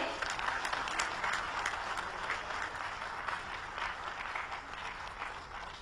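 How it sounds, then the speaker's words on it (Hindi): An audience at a party medical cell ceremony honouring doctors applauds in steady, sustained clapping that fills the hall from start to finish, with faint voices underneath. "जोरदार तालियां इनके लिए।"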